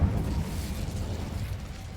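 A fire spell cast in the video game Hogwarts Legacy: a broad burst of flame with a low rumbling whoosh that starts with a sharp attack and then holds steady for about two seconds.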